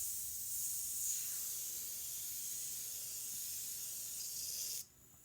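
Steady high airy hiss from a PointZero airbrush with a MAC valve spraying paint, close and even for several seconds before cutting off abruptly, with no voices.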